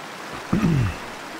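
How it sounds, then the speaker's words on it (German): In the hunting game Way Of The Hunter, a single splashy footstep sloshes through water, a brief wet swoosh over steady ambient background. "Jetzt gehen wir mal durchs Wasser hier."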